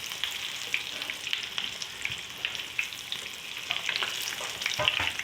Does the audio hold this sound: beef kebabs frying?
yes